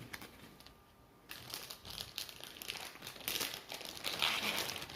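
A plastic bag crinkles close up as a parcel is repacked, with irregular rustling and crackling that grows louder and busier after a brief quiet start.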